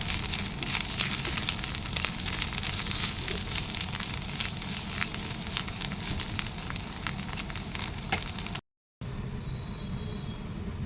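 Kharkol leaves being stir-fried in a pan give a steady, close sizzle with scattered sharp crackles, fairly quiet and continuous, broken by a brief gap near the end.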